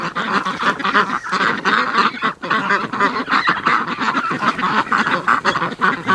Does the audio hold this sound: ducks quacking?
yes